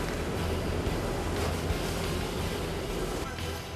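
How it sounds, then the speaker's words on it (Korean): Strong wind and churning high waves around a fishing boat out for hairtail at sea, a dense, continuous roar of gusting air and crashing water with steady rumble throughout. "갑자기 강한 바람에 배를 집어삼킬 듯 성난 파도가 쉼없이 휘몰아친다."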